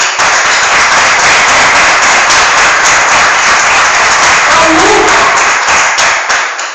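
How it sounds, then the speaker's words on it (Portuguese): Loud, dense applause from a church congregation during a sermon, steady throughout with sharp individual claps standing out, tapering slightly at the very end. "Uma salva de palmas para o Senhor"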